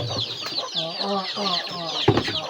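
Pet backyard chickens clucking close up, a flock of hens giving overlapping, repeated bwawk-like calls in a busy, uneven chatter with a brief louder squawk near the end.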